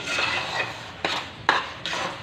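A spoon stirs cooked puran, a sweet lentil filling, in a pot, giving a few distinct scraping knocks against the metal over a soft background, with no talking.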